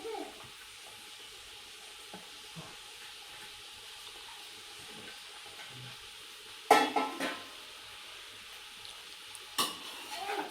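Onion and corn stirred and fried in a pan for homemade pizza, a faint low sizzle with soft intermittent clinks and two louder scraping clatters of the spoon against the pan.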